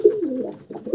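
Old desi pigeons in a loft give a low, close coo that slides downward, followed by a softer second murmur.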